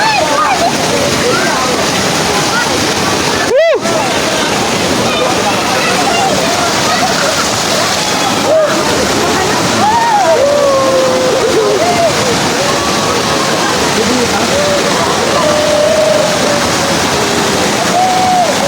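A river swollen with floodwater rushes and splashes loudly and steadily, with people talking and calling out over it.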